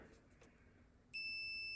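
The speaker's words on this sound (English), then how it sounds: "If you got beep, we're good to go." A multimeter on continuity mode gives a sudden steady electronic beep as its two probes touch together, starting partway through after quiet room tone and holding loud and unbroken to the end.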